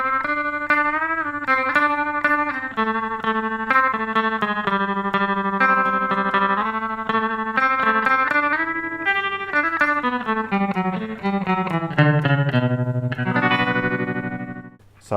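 Electric guitar lead played through a Boss TR-2 tremolo pedal, sustained notes pulsing steadily in volume as a melodic line moves up and down, ending on a held low chord that fades.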